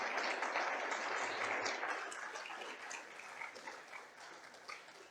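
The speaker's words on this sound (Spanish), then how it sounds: "Dale fuerte aplauso al Señor" A church congregation applauds, sustained clapping from many hands that starts fairly strong and gradually tapers, heard at a moderate distance with no talk over it.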